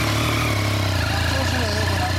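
A 2016 Yamaha MT-09 Tracer motorcycle engine idles steadily nearby, a continuous low throbbing hum that holds an even level throughout.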